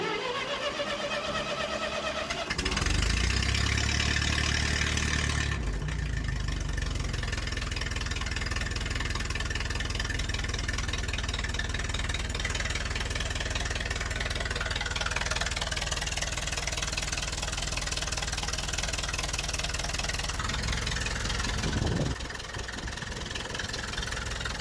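A Ferguson TO20 tractor engine, its carburetor freshly rebuilt, cranks and fires at about three seconds, then settles into a steady, loud idle that runs on for around twenty seconds before briefly dropping off near the end.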